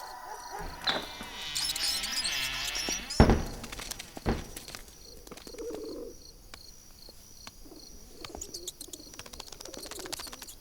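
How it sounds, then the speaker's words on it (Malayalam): A pigeon coos at night in a few soft, low, rounded calls that sit faintly in a dim, quiet space, after a louder rustling start. "അതൊരു പ്രാവല്ലേ?"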